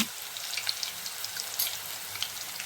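Green chillies frying in oil for pesara pappu, a faint, steady crackling sizzle with scattered soft pops close by, no talk.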